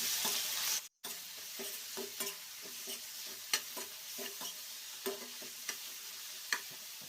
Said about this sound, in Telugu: టమాటోలు వేసుకున్న తర్వాత హై ఫ్లేమ్లోనే 2 నిమిషాల పాటు వేయించుకోవాలి.